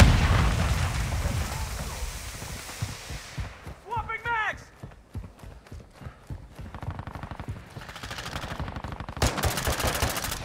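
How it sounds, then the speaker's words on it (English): Gunfire in Call of Duty: Modern Warfare II, rapid automatic bursts of shots in quick rhythmic strings, moderately loud, with a shouting voice heard over the shooting. "They're shooting at me!"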